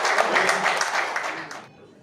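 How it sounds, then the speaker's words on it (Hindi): Crowd applause at a party joining event welcoming new members, steady and fairly loud clapping from many hands that stops abruptly near the end, leaving quiet room tone. "तालियों से स्वागत"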